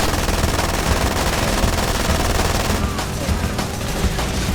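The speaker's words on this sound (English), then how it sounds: "the MAC-10" MAC-10 submachine gun firing in Far Cry, a dense, continuous burst of rapid automatic fire that is loud and close, sustained throughout with a slight easing near the end.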